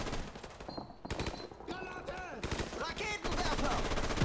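Sustained barrage of gunfire in Call of Duty: Modern Warfare Remastered, dense overlapping shots and bursts close by, with voices shouting over the battle.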